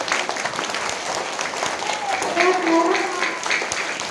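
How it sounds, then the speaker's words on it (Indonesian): Steady applause from a group of schoolchildren, loud and continuous, with children's voices calling out underneath. "Tepuk tangan."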